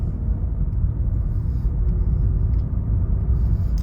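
A 2024 Mazda CX-50 pulls away from a dead stop, its engine and road noise forming a steady, loud low rumble that holds evenly throughout with no distinct pops.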